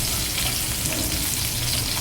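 Rohu fish pieces frying in oil, a dense, loud, even sizzle that fills the whole moment, close and uninterrupted.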